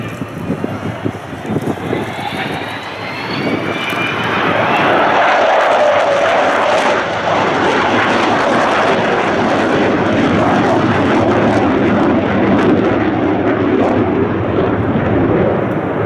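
A jet aircraft flying at the RIAT 2015 air show, a loud, steady engine roar that swells after a few seconds and holds as a broad, rushing drone with a faint whine, heard without talk.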